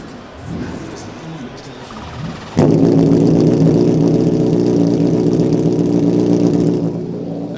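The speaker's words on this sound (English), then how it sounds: "Let's fire it up and give it a rev." A Hyperbike PGM V8 2000cc motorcycle engine with a near-straight Kropovich titanium exhaust fires up after some quieter sounds and a voice, then holds a loud, close, sustained rev and drone before easing slightly at the end.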